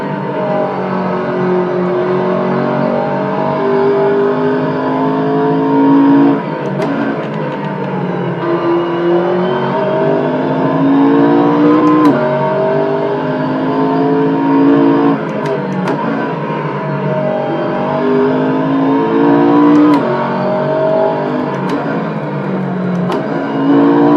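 Racing car engine in Assetto Corsa on PC, loud and continuous with rising and falling revs as it accelerates and shifts through gears, with a few sharp clicks over the drone.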